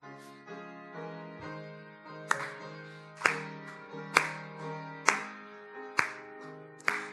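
A church congregation claps along to a hymn during Sunday worship. Sharp, regular claps land about once a second over sustained organ or keyboard chords, fairly quiet overall.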